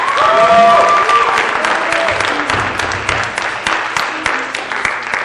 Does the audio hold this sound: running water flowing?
no